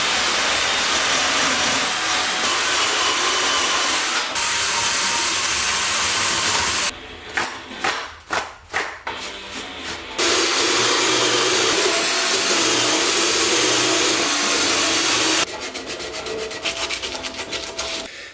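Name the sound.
hand polishing an engine rocker cover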